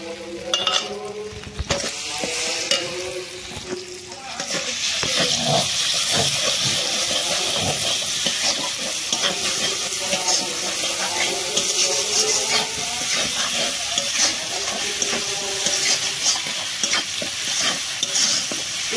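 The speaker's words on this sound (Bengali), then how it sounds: "এটাকে ভাবে একটু ভেজে নেবো" Ground mustard, poppy seed and green chili paste fries and sizzles steadily in hot oil in a pan while being stirred, turning louder and denser partway through, with continuous hissing and no talk.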